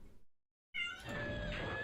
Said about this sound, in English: if you hear meows, that's just my cat protesting because I don't want to let him into the room